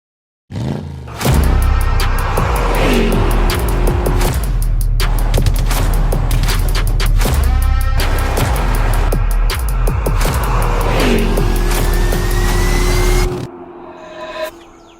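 Car engine in Far Cry 5 gameplay, a loud, steady drone with revving and rising pitch sweeps held for about twelve seconds, with sharp clicks and booms scattered through it, then cut off abruptly near the end.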